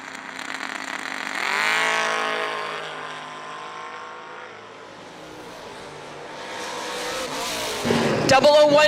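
Drag racing cars, one of them a Mustang, launch at a winter event with a loud engine roar that swells and fades, then a second burst of revving near the end. An announcer talks over the noise.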